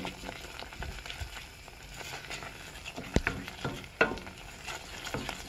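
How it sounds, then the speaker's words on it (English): Tomato puree for a Chinese curry frying in a pan, sizzling and pattering up close while a spoon stirs and scrapes, with two sharper knocks against the pan near the end and no talking. "So stirred that 20 seconds or so just to get rid of any bitterness from the tomato puree"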